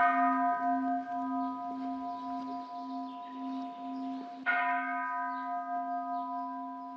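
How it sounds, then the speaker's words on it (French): A temple bell at the Zen monastery Eihei-ji, a steady ringing tone with clear overtones that fades slowly, then a second strike midway that swells and lingers, resonant and alone. "Nous allons maintenant sonner 3 fois la cloche pour signifier le début de la séance."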